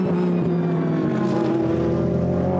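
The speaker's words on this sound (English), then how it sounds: "there you've got the Mercedes heading up towards the end of the lap" A Mercedes GT race car at speed on the Paul Ricard circuit, a steady loud engine drone holding one pitch throughout with no voices over it.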